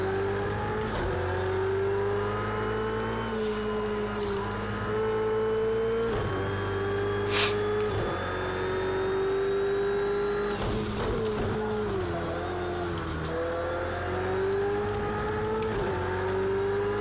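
GT3 race cars at Road America in Project Cars 2, the driven car heavy with nearly 90 liters of fuel: a close, continuous engine whine that rises and falls through gear changes, with no talk.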